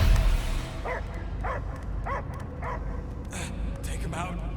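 A dog in the Guardians of the Galaxy video game barks repeatedly in a steady rhythm of about six yelping barks over a low ambient rumble and game noise.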